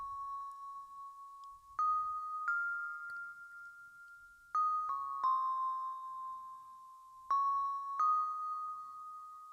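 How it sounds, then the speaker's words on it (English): Ringing notes from an unprocessed sampled bell play a slow melody, each new pitch struck cleanly and held, a dry, clear tone with nothing else around it. "So this is what the bell sounded like originally."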